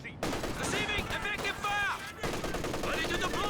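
MG34 machine gun bursts in the World War II strategy game Company of Heroes 2, rapid rattling fire in short repeated volleys amid other battle effects, with a brief cut near the start.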